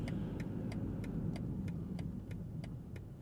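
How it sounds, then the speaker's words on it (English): A 2025 BMW M5 turn signal clicks loudly in an even, quick rhythm, about three ticks per second, over a low steady engine and road hum inside the car. "at least that'll give me a chance to listen to the turn signal sound"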